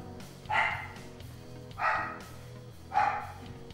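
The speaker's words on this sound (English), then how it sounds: "I think my dog needs to go outside." A dog barks three times at spaced intervals indoors, each bark fairly short and moderately loud, with a faint hum of game audio in the background.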